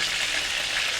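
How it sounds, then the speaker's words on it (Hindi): Cheesy creamy chicken kababs fry in hot oil with a steady, close, dense sizzling hiss that holds level throughout, with no voices. "और इसी तरह से मैं दूसरे फ्राई करूँगी।"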